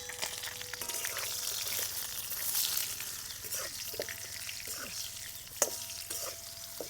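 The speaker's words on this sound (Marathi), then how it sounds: "वांगे असे तेलामध्ये थोडे परतून घ्यायचे, म्हणजे खमंग लागतात खायला" Eggplant pieces sauté in hot oil with salt on a wood-fired stove, giving a steady bright sizzle with occasional stirring scrapes and clinks throughout, close and moderately loud.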